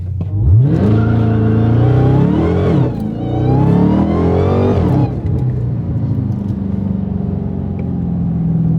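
A Dodge Charger Hellcat accelerates hard at full throttle, its engine note climbing through two rising pulls separated by a brief dip at a shift, then settling into a loud, sustained cruising drone heard from inside the car.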